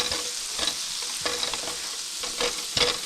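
Food sautés in a pan over medium heat, a close, dense sizzle broken by repeated scraping strokes of a spatula, with no talk.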